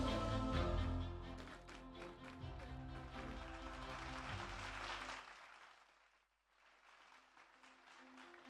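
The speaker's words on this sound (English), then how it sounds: "Parents, please applaud." Applause from a crowd of parents at a school award ceremony, loud and sustained at first beneath music, then fading to quieter scattered clapping near the end.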